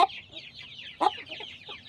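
Aseel chickens and their chicks cluck on a farm in a quick, scattered series of calls, with one louder, sharper cluck standing out near the middle against a quiet background.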